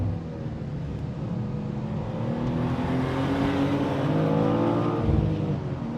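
A new BMW M2 drives at speed, its engine a steady, moderately loud drone with rising harmonic tones as it accelerates, heard from inside or near the car with no talk.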